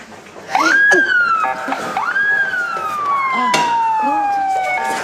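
A police car siren wails loud and near, its pitch sweeping up and then gliding slowly down in long repeated cycles.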